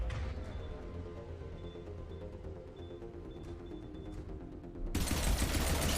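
Gunfire from Mass Effect 3 plays as a run of quick, moderately loud shots over a dense battle rumble, then swells into a harsher, louder burst of fire.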